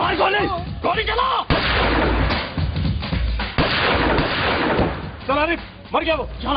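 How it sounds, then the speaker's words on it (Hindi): Gunshots ring out in a dramatic crime scene, several sharp loud cracks and booms mixed in among background music and voices. "गोली चला।"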